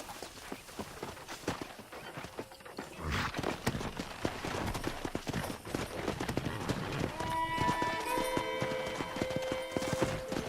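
Horses gallop with rapid hoofbeats and an occasional whinny in Red Dead Redemption on Xbox 360, shouts and game sounds mixed in, busy and fairly loud throughout.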